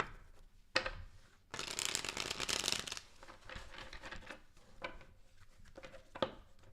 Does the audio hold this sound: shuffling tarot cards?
yes